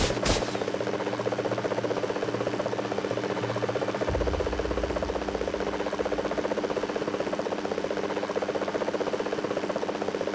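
Steady buzzing drone of Spider-Man's helicopter flying in Lego Marvel Super Heroes, a constant engine hum with a low rotor pulse that shifts pitch after a few seconds and keeps going.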